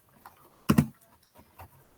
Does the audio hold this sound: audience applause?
no